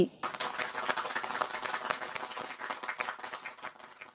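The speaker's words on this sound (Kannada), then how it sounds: "ಅದಕ್ಕಾಗಿ ಈ ಚಪ್ಪಾಳೆ ನಿಮಗಾಗಿ." Students in a history class are applauded, a burst of many hands clapping that starts suddenly and carries on steadily for several seconds before easing slightly.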